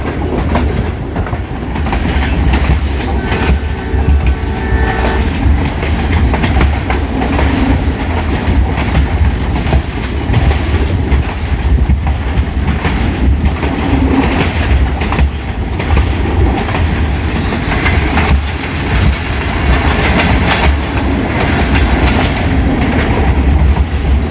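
A passenger train on the Rawalpindi to Sialkot branch line rumbles steadily, its wheels beating a rhythmic clickety-clack over the rails, loud and continuous from on board.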